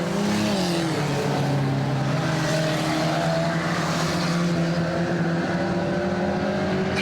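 Ministox stock cars racing at a Warton Stock Car Club meeting, a dense pack of engines droning and revving together at steady high volume, with no voices.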